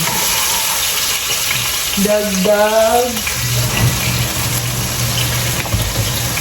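Ginger dropped into a hot sizzling pan while cooking ginataang gulay, a continuous close frying hiss with a brief squeaky scrape partway through.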